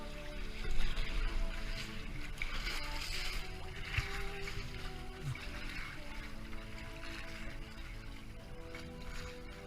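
Diesel tugboats pass near kayaks in Twofold Bay, a steady low engine rumble carrying across the water, with lapping water and faint muffled voices nearby.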